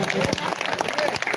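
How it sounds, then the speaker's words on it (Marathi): Audience applause at a village performance of the Shravan Bal play in Vaitipada: a dense, steady patter of many hands clapping at once, close and sustained for the whole short stretch. "जर आवडलं असेल तर जोरदार टाळ्या झाल्या पाहिजे"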